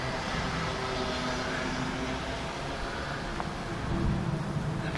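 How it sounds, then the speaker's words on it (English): A low-flying aeroplane makes a steady, broad roar that fills the whole stretch, loud and continuous with no talking. "Aeroplane flying low there."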